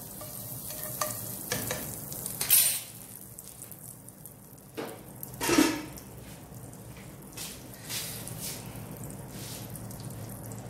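Butter sizzles softly in a greased frying pan while pancakes are being made, a low steady crackle with a few brief scraping or stirring bursts, close by and with no talking.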